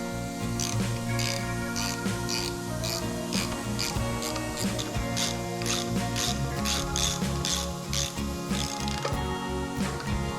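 Bolts loosened on a Harley Sportster motorcycle, rapid repeated ratcheting clicks from a hand tool over a steady mechanical background, close and continuous throughout.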